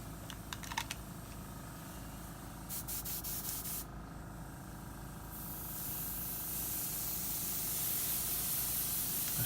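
A Copic airbrush sprays paint with a steady airy hiss that grows louder over the final seconds, after a few light clicks and taps near the start.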